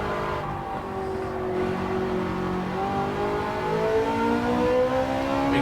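A race car in Gran Turismo 7 accelerates out of a corner, its engine note climbing steadily in pitch through the gears, loud and close, with a rising whine and no voices.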